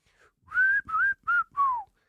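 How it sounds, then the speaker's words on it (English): Someone whistles four short, sliding notes in a row, close and clear, with brief gaps between them. "It's embarrassing not being able to whistle."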